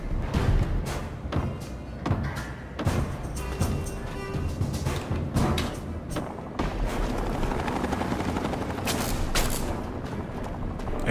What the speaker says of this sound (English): Heard explosions over there.